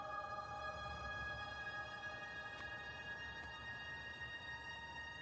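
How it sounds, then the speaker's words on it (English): A train in Factorio with the Space Exploration mod sits in place, giving a steady, even mechanical hum with layered tonal drones and two faint brief clicks, constant in loudness throughout. "But you can't because this train's here."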